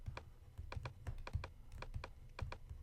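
Fast typing on a computer keyboard during Photoshop work. Rapid, uneven key clicks sound close and crisp, with no talking.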